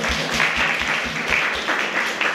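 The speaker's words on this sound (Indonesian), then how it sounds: "aplaus buat beliau" A classroom of university students applauds a classmate's answer in a discussion of Pancasila, a steady burst of clapping from many hands filling the room, loud and continuous throughout.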